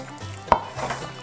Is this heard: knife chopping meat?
yes